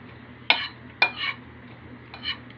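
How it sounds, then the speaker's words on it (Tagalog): Spoon or spatula stirring salt and Magic Sarap seasoning into ingredients in a cooking pan, giving three separate scraping clinks spaced about half a second to a second apart, moderately close and alone. "At hahaluin ko to."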